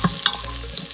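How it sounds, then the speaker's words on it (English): Onion hits hot oil in a pan while cooking outdoors in a garden, giving a loud, steady sizzle and frying hiss with light stirring, close and continuous throughout. "Now I'll go ahead and add the onion."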